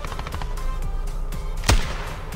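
One loud, sharp shotgun blast rings out in the Standoff 2 mobile shooter. Quieter clicks and distant game sounds come before and after it.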